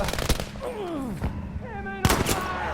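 Rapid gunfire crackles up close in Battlefield V, dense bursts layered with whistling, sliding tones and a sharp loud report near the end, while a voice talks over the chaos.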